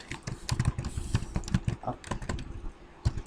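Rapid, uneven keystrokes on a computer keyboard, clicking in short bursts with brief pauses, close and fairly quiet, with no voice over them.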